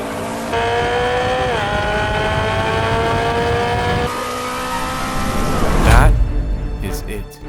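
Race car pushed hard through the final section of a track lap, engine howling at high revs with gear changes, a sudden surge and rough thumping near the end, a voice talking over it.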